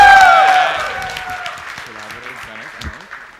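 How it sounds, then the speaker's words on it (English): An audience at a tech lightning-talk event breaks into applause, loud at first and fading gradually over a few seconds, with a voice speaking briefly over the clapping. "So big round of applause for him."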